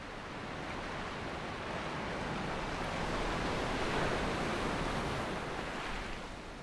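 Waves wash onto a beach at sunset, a continuous, broad roar of surf that swells gently and then eases back.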